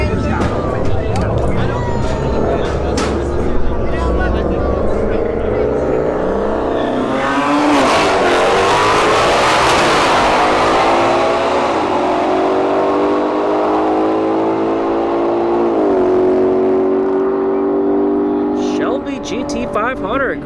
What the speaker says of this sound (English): Shelby GT500 in the right lane. The Acura sedan